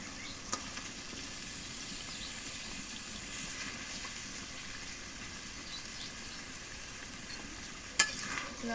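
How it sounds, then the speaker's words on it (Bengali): Meat is stir-fried with fish spice masala in a pan, giving a quiet, steady sizzle with faint scraping of the spatula and a sharp clink near the end, heard alone at a low level. "মাংসটা দিয়ে মাংসটা দিয়ে একটু কষাই নিই"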